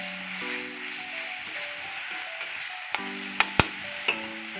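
Ginger-garlic paste and cumin sizzle in hot oil for an egg curry, a steady frying hiss with a few sharper pops and clicks of stirring near the end, no talking.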